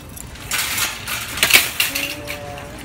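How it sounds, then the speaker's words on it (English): A small bunch of keys drops and jingles with bright metallic clinks, a brief cluster of rattles close by in an otherwise quiet room. "my keys drop."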